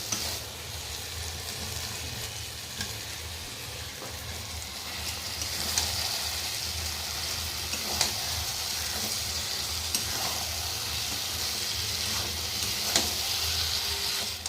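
Country chicken pieces sautéing in a pan give a steady, close, continuous sizzle and crackle that holds evenly throughout, with no one speaking.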